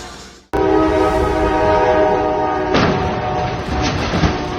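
A freight train passes a level crossing with a sudden loud onset into a sustained harsh, tonal roar of horn and rail noise, then a crashing surge as it hits a lorry.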